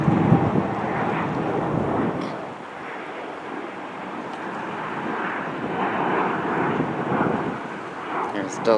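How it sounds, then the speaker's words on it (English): A Delta Airlines Airbus A320 airliner approaches Boston Logan International Airport, its engines a broad, steady roar that swells and eases at moderate distance, with no talk. "there's Delta Airlines Flight 604 coming from Minneapolis using an Airbus A320"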